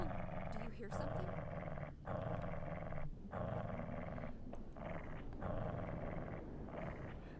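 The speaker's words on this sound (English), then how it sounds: "The dog is growling." Deep, menacing growls from a dog in the survival horror game Resident Evil 7 come in long, sustained rumbling stretches with brief breaks between them, close and prominent.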